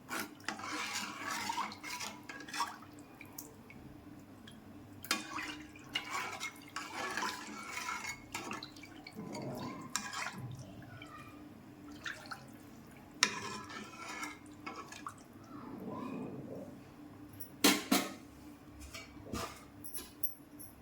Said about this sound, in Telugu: ఇప్పుడు రసం పోసేసుకుందాం కొద్దిగా సాల్ట్ ఒకసారి కలుపుకున్నాం